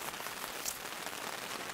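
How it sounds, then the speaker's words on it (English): Torrential rain drumming on a tent during wild camping, a dense, even hiss of countless drops heard from inside, steady and fairly faint, with no voices. "This is only the start with this torrential rain on the way in"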